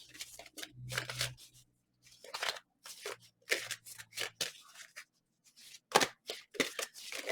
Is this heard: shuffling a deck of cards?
yes